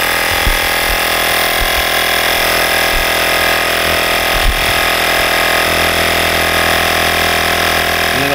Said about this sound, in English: we're just gonna go ahead and finish pumping up the air here